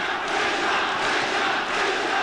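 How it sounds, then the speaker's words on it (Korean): Spectators roaring and cheering at a professional boxing bout between rounds, a dense sustained crowd roar filling the arena without a break. "환호하는 관중들."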